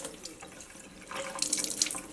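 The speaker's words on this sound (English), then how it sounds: "I'm going to just squeeze some excess water out." Water dripping and trickling as a wet hand-knit shawl is squeezed out over a sink, a close, soft splashing that grows louder toward the end.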